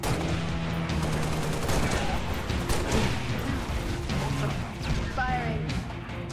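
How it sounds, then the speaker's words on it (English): Halo video game gunfire crackles in rapid bursts with sharp impacts and crashes, continuing busily through the whole stretch. "Firing."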